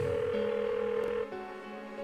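Electronic phone ringing from the video game Persona 4, a steady synthesized two-tone trill that rings on unanswered, clear and close with no voices over it.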